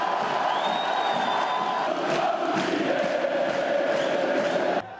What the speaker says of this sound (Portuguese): E delírio da torcida no Heriberto Wilson.